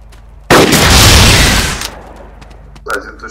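Loud burst of gunfire in the video game Arma 2, a heavy blast of shots lasting over a second and then fading, with a brief faint pop afterward.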